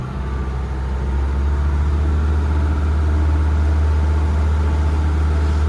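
The engine of a 2003 Viki 32 Fly motor cruiser drones loud and low as the throttle opens, a steady, heavy hum that swells slightly over several seconds.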